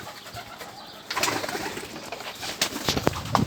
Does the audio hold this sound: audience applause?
no